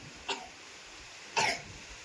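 Two short, dry coughs, close by, separated by about a second of quiet.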